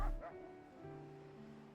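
Sled dogs pulling a four-dog sleigh in snowy wind in a video game give a short yip and bark at the start, then fade under a soft sustained musical drone.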